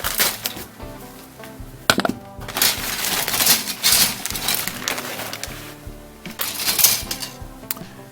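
A plastic parts bag from a 1:24 scale 1926 Mack Bulldog model kit crinkles and rustles up close as it is cut open, with crackling bursts and a sharp snap.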